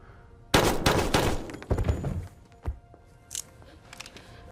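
Burst of gunfire in a film scene as Lalo is shot, several sharp loud cracks close together, then scattered thuds and quieter impacts fading out.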